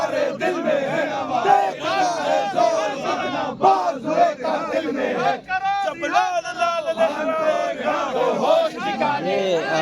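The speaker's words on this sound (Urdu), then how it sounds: "یہ کارکنان جو ہے وہ نعرے بازی کرتے ہوئے یہاں پہ موجود ہیں" At night, a crowd of political party workers chants slogans outside Adiala jail: loud, rhythmic massed voices rise and fall in repeated bursts, close by.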